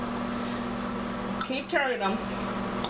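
Onions simmer in a pan with a low, steady bubbling sizzle, while a voice speaks briefly over it partway through.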